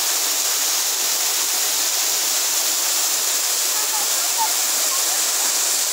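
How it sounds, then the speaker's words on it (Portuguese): Waterfall on a forest trail, a steady broadband rush of falling water that stays loud and constant throughout with no clear voices over it. "Olha aqui, que cachoeira mais bonita, olha só que pedra d'água."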